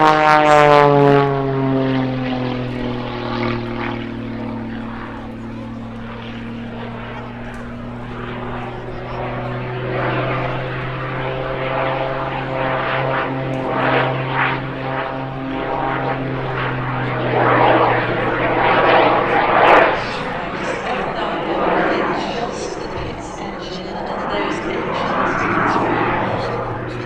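Pitts aerobatic biplane fitted with jet engines performs a flying display at the Midlands Air Festival, its engine tone droning and shifting in pitch as it passes, loud and sustained, with a rising roar toward the end.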